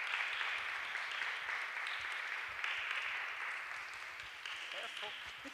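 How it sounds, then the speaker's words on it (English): An audience at a panel on whistleblowing and discrimination claps for an arriving guest, a continuous crowd of hands rolling on at moderate loudness and slowly easing off over several seconds. "We can start clapping."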